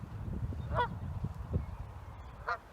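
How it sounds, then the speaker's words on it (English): Two loud Canada goose honks ring out about two seconds apart over a low rumbling background, with a softer honk in between, on a farm. "our Canada geese have got goslings"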